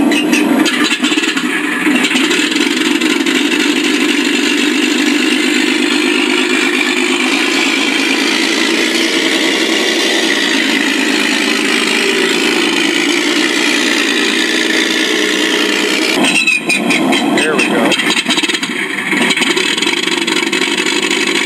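FMS 1400 mm T-28 Trojan RC model plane taxiing with its electric motor whirring steadily at low throttle, loud and continuous, briefly cutting out and surging near the end.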